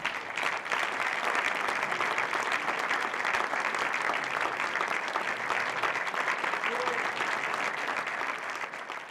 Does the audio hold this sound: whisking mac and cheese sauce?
no